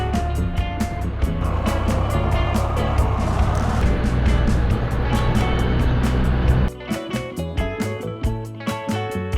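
A three-wheeled motorcycle's engine runs steadily while riding, a loud continuous drone that drops off sharply near the end into choppier, uneven revving.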